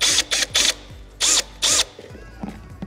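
Ratchet wrench backing out T30 Torx fasteners on a BMW F10 M5 S63 V8 engine during spark plug work: several quick bursts of loud ratcheting clicks in an uneven rhythm, close up, then quieter handling noises with no talk.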